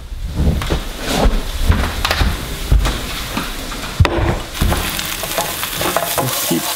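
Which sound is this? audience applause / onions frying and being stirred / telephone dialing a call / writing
onions frying and being stirred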